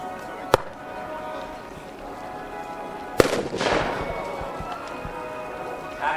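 A sharp blast from exploding ammunition on a model warship during a model boat battle, preceded by an earlier crack, followed by a rumbling, crackling tail over steady outdoor background noise.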